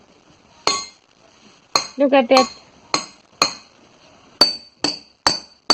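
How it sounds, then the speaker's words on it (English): Metal plates banged against each other, sharp ringing clinks struck about nine times at uneven intervals, including a quick rattling burst of several hits, close and loud, with a brief spoken remark. "when I took a plate and just bang it with each other, the sound is created"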